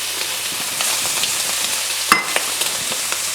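Diced brown onion sizzling in a pan, a steady close frying hiss with light stirring clicks and scrapes, no voices.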